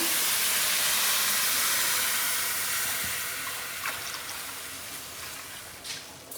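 Full-fat milk pours into a pot of seviyan on a home kitchen stove as a steady hissing, watery rush that fades gradually, with a few small clinks near the end.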